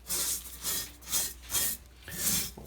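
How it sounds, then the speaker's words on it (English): Scrubbing crust and rust off an old cast iron pan: about five rhythmic, close rasping strokes rise and fall with short pauses between them, with no talking. "What we're doing is taking off the crust, the crud, and the rust on here."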